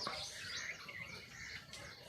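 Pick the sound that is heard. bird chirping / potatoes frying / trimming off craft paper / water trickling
bird chirping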